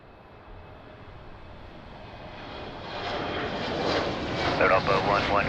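A commercial airliner approaching to land on runway 02 at Lisbon Airport, its engine roar swelling steadily from a distant rumble to a louder, nearer whine over several seconds.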